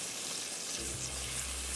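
Mutton pieces with ginger garlic paste fry in a pan for a Balti gosht curry, giving a steady, soft broadband sizzle at moderate closeness with no talk over it.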